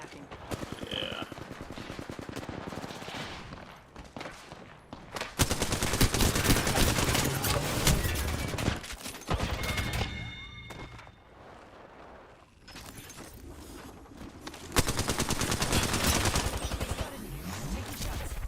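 Dense bursts of rapid automatic gunfire and single shots from an Apex Legends firefight crack loudly and repeatedly, broken by short lulls, with a few faint voices mixed in.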